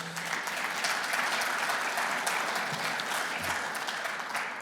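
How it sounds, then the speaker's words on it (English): An audience at a conference session applauds its guest speakers, a sustained, even patter of many hands clapping at moderate distance, with no voices over it. "Please give them a big round of applause."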